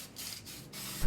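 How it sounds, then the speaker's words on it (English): Testors 1249 flat black spray paint is sprayed from above onto the roof of an O scale Atlas feed store model, making soft airy hisses in short bursts with brief gaps between them. "I'm just spraying it from the top."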